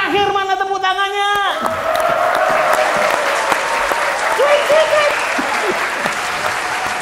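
Someone speaks briefly before a live podcast audience in Surabaya breaks into sustained clapping and applause that fills the rest of the clip, fairly loud and dense.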